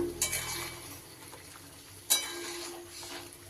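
Tomato chutney with cashews and raisins being stirred in a pan, giving soft scraping and a gentle sizzle with a sharper clink of the utensil near the middle.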